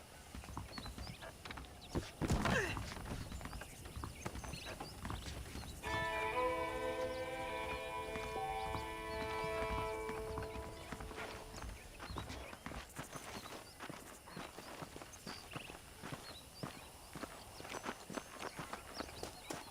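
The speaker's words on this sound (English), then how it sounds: "let's see if you can still ride a horse." Hooves clip-clop at a steady walking rhythm as a horse is ridden in Red Dead Redemption on PS4, with a brief tonal musical phrase rising over the hoofbeats midway.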